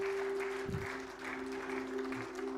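A church congregation applauding in acclaim of the Lord, a steady patter of clapping from many hands throughout, moderately quiet with a faint sustained tone underneath.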